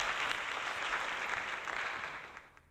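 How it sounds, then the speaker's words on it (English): A crowd applauds steadily at a live retro gaming show, a dense wash of clapping that holds evenly and then thins and fades out toward the end. "Give yourselves a round of applause"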